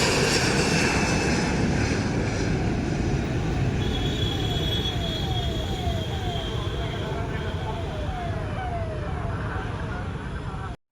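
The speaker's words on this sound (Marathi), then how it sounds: "प्रत्येक 15-20 एरोप्लेन टेक ऑफ." An airplane taking off from a nearby airport gives a loud, steady broadband roar that holds for about eleven seconds, with faint sweeping tones above it, then cuts off abruptly.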